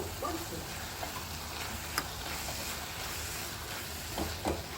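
Onion and masala paste frying in oil makes a soft, steady sizzle with a few faint stirring clicks and scrapes, quiet and close, with no talking.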